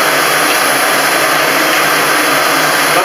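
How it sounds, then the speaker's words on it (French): Vacuum cleaner sucking dust from a household radiator, a loud steady whooshing roar of airflow and motor whine, continuous and close with no pauses. "L'aspirateur, vous enlevez toute la poussière, comme ça."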